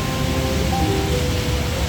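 Steady rain pours down on a fairly busy street during a morning routine, a loud, even hiss of falling water that fills the whole moment without any talk.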